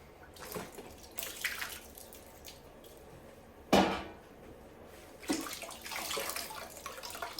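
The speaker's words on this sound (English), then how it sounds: "now we're going to get them rinsed off and see what we got" Soaked loofah sponges rinsed indoors under running water, a steady wash of splashing with a few louder bursts and knocks as the sponges are handled, close by with no talking.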